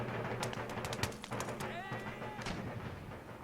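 Musket volleys in Empire Total War, a battlefield of many scattered sharp cracks and pops in quick succession, some near and some distant, with a shout of command mixed in.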